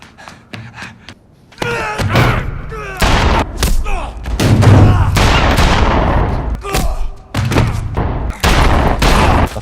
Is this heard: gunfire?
yes